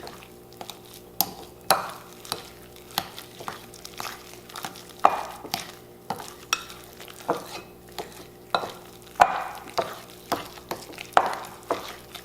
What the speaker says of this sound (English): Now we just want to mix it together. You don't want to beat it too hard.